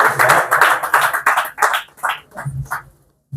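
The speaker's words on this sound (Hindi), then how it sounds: "तो ताली बजाएंगे।" A church congregation claps hands in a loose rhythm, close and loud, with bursts that thin out and stop near the end.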